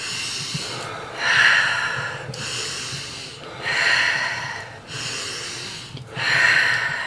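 Deep breathing during a breathwork exercise, a slow cycle of long, close airy inhales and exhales, each lasting about a second or more, with brief pauses between them and no speech.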